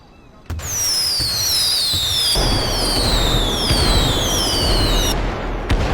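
Cartoon fireworks fired from a handheld fireworks weapon toward the top of the Eiffel Tower: a sharp launch pop, then a loud sustained crackling burst layered with several descending whistles that cut off abruptly.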